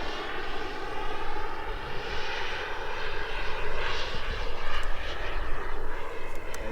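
A Sebart Mini Avanti radio-controlled turbine jet flies overhead on its maiden outings, its engine roaring steadily at a distance with gentle swells and fades as it passes through the sky.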